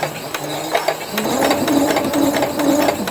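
A sewing machine stitches a welder's cap along a pinned line, a close, rapid mechanical whirring with rhythmic needle clatter and brief pauses, no talking.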